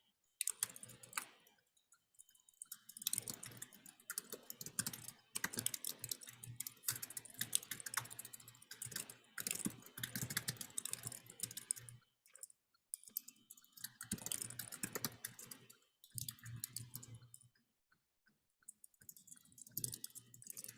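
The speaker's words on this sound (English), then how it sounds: "I'll try typing." Typing on a computer keyboard during a meeting, irregular bursts of quick clicking keystrokes with brief pauses between runs, close and clear.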